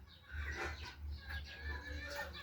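Brahma breeder chickens cluck in their pen, soft, repeated, throaty calls at a moderate distance over a low background rumble, fairly quiet overall.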